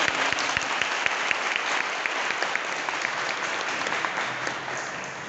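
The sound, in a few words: audience applause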